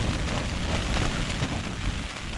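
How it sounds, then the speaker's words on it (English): Steady gusting wind buffets the microphone while rain patters continuously outdoors on the coast at St Abb's Head, Scotland, a dense, noisy wash with no voices. "it's a bit windy and it's a bit wet"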